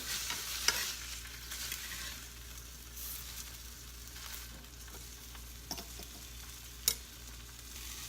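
Pork cutlets frying in a pan for pork piccata make a steady, fairly soft sizzle throughout, with a few brief clicks and knocks as they are turned, and no voices.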